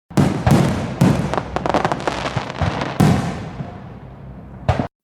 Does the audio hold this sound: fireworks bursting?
yes